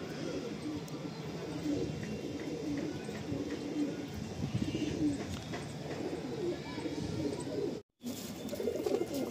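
Pigeons in a loft coo in a soft, continuous low murmur, with some flutters and small knocks, and a brief drop to silence near the end.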